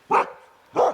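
Two sharp barks from a sled dog on a snowy pass, close and loud, spaced under a second apart with a faint whine between them.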